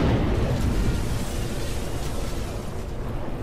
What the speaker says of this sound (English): We're gonna see a proper nuke explosion here.